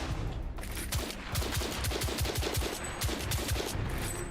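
Rapid gunfire from a firearm in the video game The Order: 1886, a steady run of sharp, loud shots repeating every fraction of a second across the whole stretch, with no talking.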